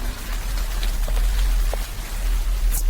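Steady rain falls during a storm, a dense, continuous hiss with scattered drops pattering on surfaces, heard alone at a fairly loud, even level.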